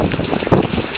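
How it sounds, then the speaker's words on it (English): Gusty wind buffets the microphone outdoors on a back patio during a heavy rainstorm, a steady loud roar with one brief stronger gust. "and then the wind's blowing towards us"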